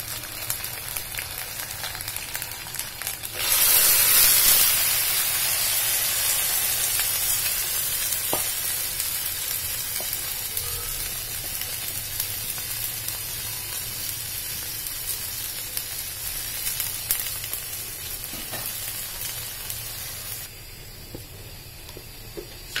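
Boiled papaya and carrot stir-frying in a hot pan for Chinese-style vegetables, a steady close sizzle that surges loudly as the vegetables go in, then settles into continuous frying with faint stirring scrapes, no talk.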